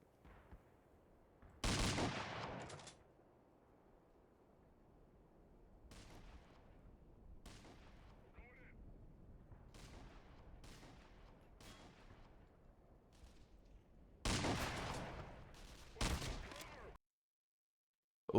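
Sniper rifle shots in Wind Waker, two loud sharp broadband blasts several seconds apart over a quiet game background with faint intermittent sounds.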